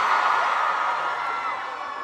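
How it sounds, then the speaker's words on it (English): Concert crowd at a K-pop show by The Boyz on the Zeneration II Tour, a dense sustained roar of cheering and whoops filling the whole moment, loud and steady with no single voice standing out. "now that you guys are cheering so hard"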